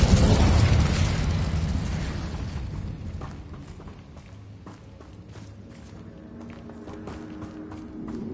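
An Incendio fire spell cast in Hogwarts Legacy on PS5 bursts out as a loud fiery whoosh and boom that dies away over a few seconds. Quick footsteps and light crackling impacts follow.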